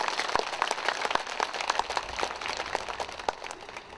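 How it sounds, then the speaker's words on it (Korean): A crowd gives dense, sustained applause at an outdoor Buddhist water-and-land ceremony by Musimcheon stream in Chungbuk. The clapping is a continuous rattle with a few sharper claps and eases slightly toward the end. "우리 다시 한번 더 큰 박수를 좀 부탁드리겠습니다"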